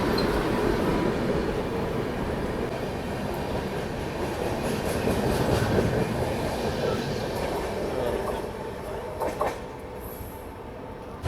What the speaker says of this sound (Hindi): अभी अपनी ट्रेन निकल रही है सब्जी मंडी रेलवे स्टेशन से